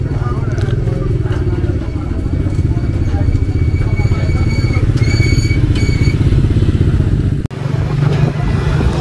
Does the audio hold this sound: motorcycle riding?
yes